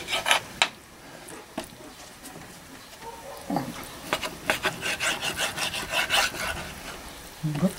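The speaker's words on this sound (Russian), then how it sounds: "Режу на порции мясо." A knife cuts meat into portions for shashlik, giving intermittent rasping, scraping strokes on a board that cluster into a quick run of cuts toward the end, close and fairly quiet.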